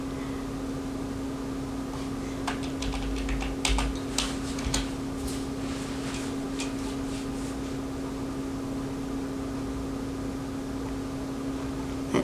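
A keyword is typed on a computer keyboard, a short burst of light, quick key clicks followed by a long stretch of faint steady background hum with no further tapping.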